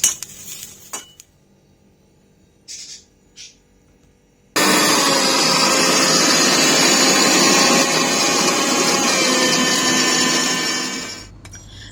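A mixer grinder whirs loudly and steadily as spices like cumin and coriander are ground, starting abruptly after a few quiet clinks and running for about seven seconds before stopping.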